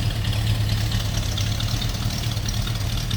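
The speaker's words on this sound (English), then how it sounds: "Nice little rumble out of that Crate 350." A 1938 Chevrolet business coupe with a crate 350 V8 idles with a steady, low rumble, heard close and alone without any talk.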